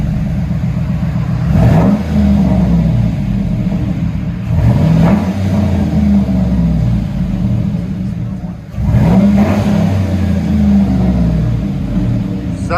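A 2009 Chevy Avalanche with a 5.3L V8 and dual Flowmaster Super 10 exhaust revs up repeatedly in three loud surges, dropping back to a deep rumbling idle between them, recorded up close.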